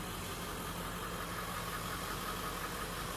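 Chevy Duramax diesel truck engine idling at a steady, continuous rumble with a faint knocking texture throughout, close and even in level, with no talking.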